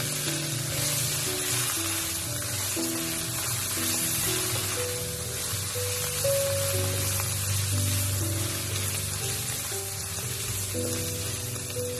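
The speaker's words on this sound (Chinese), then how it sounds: "加入1勺豆瓣酱，继续翻炒出香味，把豆瓣酱的红油煸炒出来" Chili bean paste being stir-fried in a wok for salt-and-pepper loach, a steady close sizzle with soft stirring scrapes running throughout, alone and fairly loud, under a background of sustained musical tones.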